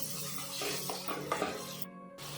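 Tomatoes frying over medium heat for a garlic sev curry, stirred with a spoon scraping and knocking against the pan over a low sizzle, near and fairly quiet.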